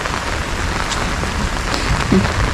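Rain falls steadily as a dense, close hiss over a low rumble, with a few heavier drops or knocks standing out near the end.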